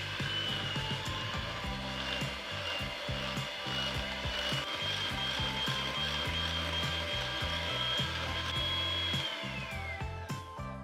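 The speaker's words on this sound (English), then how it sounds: "Then using a hand mixer, I'm going to blend all these together." Hand mixer whirring in a bowl of eggs and sugar, a steady mid-loud motor whine with rattling beaters knocking irregularly against the bowl, running alone throughout.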